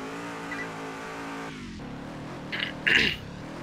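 A car drifting and revving in the Roblox Ultimate Driving video game, with a sustained engine drone that gives way to short high tire squeals near the end.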